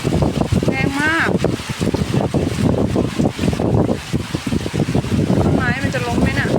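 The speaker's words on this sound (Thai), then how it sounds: "ทั้งลมทั้งฝนเลยอ่ะแรงมากเลยอ่ะ" A strong wind and rain storm roars in a dense, continuous rush close to the microphone, buffeting it, while a person talks excitedly over the noise.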